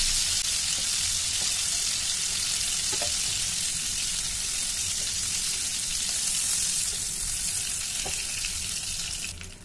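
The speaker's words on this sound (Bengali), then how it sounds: "চিংড়ি মাছটা খুব বেশি ভাজবো না, হালকা করে ভাজবো" Prawns frying in hot oil for a prawn malai curry give a steady, dense sizzle throughout, with a few faint clicks of utensils near the pan and no talking.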